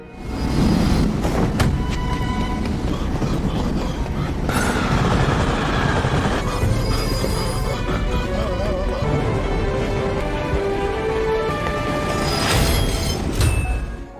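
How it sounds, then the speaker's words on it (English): A train rumbles steadily past at close range, with rattling wheels, metallic clatter and occasional squealing over a continuous heavy roar. "Wawai heard the sound of a train approaching."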